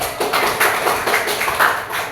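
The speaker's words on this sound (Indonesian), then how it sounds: "Nanti tepuk tangan untuk Cecil." A classroom of children clapping their hands together in a short rhythmic burst of repeated claps, fairly close and loud, with no talking over it.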